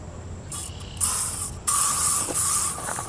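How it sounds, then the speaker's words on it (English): Short hissing bursts of an aerosol bug spray, several quick spurts followed by longer sustained sprays, close and fairly loud with no talking. "this is Phil putting on his bug spray"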